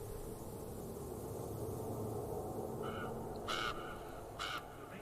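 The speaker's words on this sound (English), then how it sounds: "The raven appears as if out of nowhere." Two distinct raven caws ring out over a steady hiss of wind and rustling forest ambience in the game Black Book, each call short and fairly loud against the constant background.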